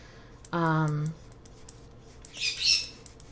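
A pet bird named Connor calls out with one loud, tonal squawk held for about half a second, followed a moment later by a shorter, higher chirping burst, with quiet clicking underneath.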